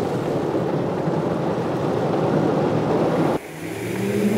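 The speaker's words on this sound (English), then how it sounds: "there's one waterfall that you don't even have to get out of your car to experience. In fact, you drive right through it." A car driving through Car Wash Falls in Arkansas: a dense, loud rush of water pounding on the car, which cuts off abruptly, leaving the quieter hum of the engine and road.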